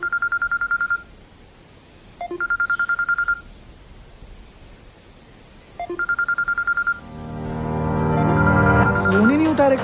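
A telephone rings in three evenly spaced, loud electronic bursts with silent gaps between them. Voices and busier sound rise sharply in the final seconds.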